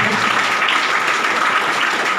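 Audience applause at a business meeting, a dense, even wash of many hands clapping together, loud and continuous without a break.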